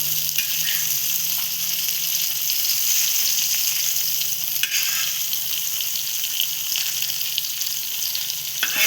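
Small chivni fish fry in a hot pan and are turned over, a loud continuous crackling sizzle that dominates throughout, with brief scrapes and soft bumps from flipping, close and without talk.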